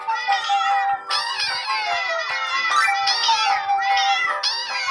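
Cartoon cats meowing in the clicker video game Cat Condo, a dense overlapping chorus of bright, high meows repeating continuously and loudly, with no talking.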